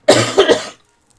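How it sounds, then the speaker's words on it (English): A single harsh cough made of two or three quick bursts, close and loud, from a person whose cough is worsening as they talk, followed by silence. "this cough is getting worse because I'm talking"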